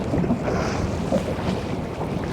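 Steady wind buffets a small fishing boat anchored on a river near a shallow hump, a continuous broadband rush with low gusting rumble and no voices.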